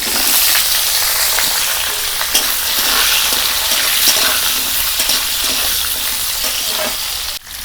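Radish, pointed gourd and carrot frying in hot oil in a wok with bay leaf, five-spice and dry chilli, a steady loud broadband sizzle with light stirring scrapes throughout, no voices.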